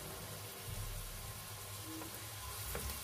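Oil heating in a pan for vegetable rice gives a steady, soft crackling sizzle that stays even throughout, with no voices.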